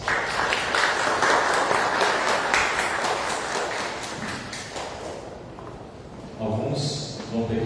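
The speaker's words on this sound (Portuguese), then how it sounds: "Uma salva de palmas." A church congregation applauds together during a Lent Sunday service installing new leadership, dense steady clapping filling the hall for several seconds before fading, then a brief swell of voices and rustle near the end.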